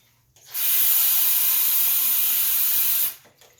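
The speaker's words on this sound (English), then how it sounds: "So now you want to add water." Water pours steadily into a pot holding a roast, the level brought just above the meat; a loud, continuous hissing rush runs about two and a half seconds and then cuts off, with no talking.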